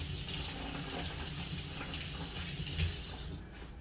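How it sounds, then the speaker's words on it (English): Hands are washed under a running kitchen tap, a soft steady gush of water, faint and continuous, cutting off at the end. "Let me wash my hands here."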